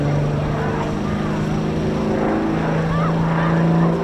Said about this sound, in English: Coming towards the end of an absolutely exceptional display of individual aerobatics